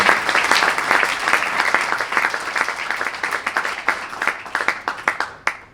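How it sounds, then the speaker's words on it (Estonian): Audience applause at a tennis federation's year-end awards ceremony in Estonia: a sustained, dense crowd clapping that carries steadily, then thins to scattered claps and fades at the end. "aplaus ka Fed Cupi kõrvaldajatele"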